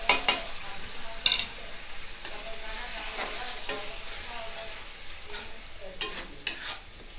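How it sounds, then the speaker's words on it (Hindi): Tomato puree and spices fry in a pan for besan gatte sabji, a soft continuous sizzle with intermittent scraping stirs of a spoon, close and fairly quiet. "इसको मैं 5 मिनट तक भूनूंगी, जब तक ये तेल ना छोड़ दे।"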